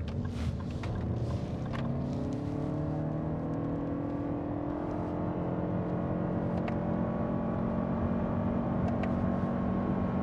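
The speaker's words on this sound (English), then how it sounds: "under full throttle, as we are right now, there is no steps though" A 2023 Lexus RX engine drones steadily under full throttle, its pitch rising gradually and smoothly without steps, with loud road and wind noise throughout.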